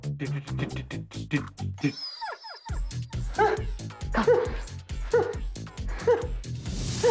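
A dog gives rapid, repeated yips and barks mixed with high whimpers, close and fairly loud. After a brief pause the yapping returns with more whining over it.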